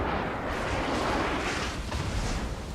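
Distant gunfire rumbles across a large naval battle map in a video game, a dense continuous roar of booming shots with no clear gaps, moderately loud and steady throughout.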